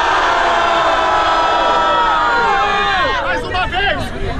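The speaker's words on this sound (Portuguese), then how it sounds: "Barulho pras rimas do Bota!" An audience at a Brazilian freestyle rap battle final shouts and cheers for a rapper's rhymes. The roar is loud and sustained, and individual yells rise over it near the end.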